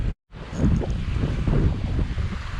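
Steady wind roars across an open beach during surf fishing, buffeting the microphone with a continuous low, gusty rush after a brief dropout at the very start.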